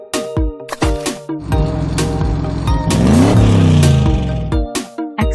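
A toy motorcycle engine revs up in a rising, swelling vroom that peaks midway, loud and close, over a bouncy plucked musical backing.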